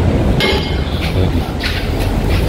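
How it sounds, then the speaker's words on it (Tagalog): A metal gate being pulled shut up close: loud, brief clanks and rattling clinks in quick succession over a noisy outdoor background. "Sarado natin gate muna. Sarado gate."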